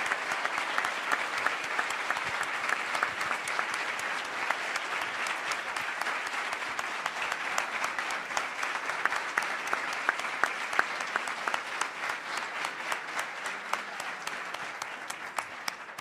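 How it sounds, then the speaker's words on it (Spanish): Sustained audience applause at an evening event, dense steady clapping from a crowd that carries on without pause for about sixteen seconds, moderately loud and even in intensity. "Les pido un aplauso"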